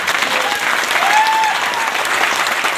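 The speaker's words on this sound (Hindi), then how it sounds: "एक बार जोरदार ताली गुरु जी के लिए।" Steady, dense applause from an audience fills the whole stretch, loud and continuous without pauses.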